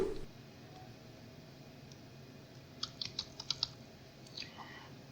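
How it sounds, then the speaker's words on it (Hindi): A name is typed on a computer keyboard in a short run of crisp, close keystrokes about halfway through, over a low steady room hiss with no talk. "यहाँ पे मैं लिखता हूँ मिस्टर यूनुस।"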